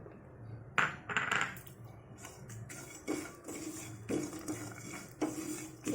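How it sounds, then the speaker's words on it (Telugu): Peanuts and sesame seeds dry roasting in a pan while a utensil scrapes and stirs, giving irregular metallic clinks and rattling scrapes at close range with quiet gaps between strokes. "ముందు పల్లీలు నువ్వులు డ్రైగా వేయించుకుందాం"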